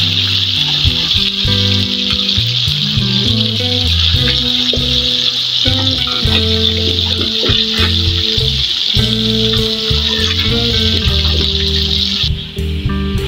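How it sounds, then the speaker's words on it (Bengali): Sea fish and native koi fish frying in hot oil give a constant bright sizzle that runs throughout, nearly level in loudness, beneath prominent background music. "মাছগুলোকে আমি বেজে নিলাম"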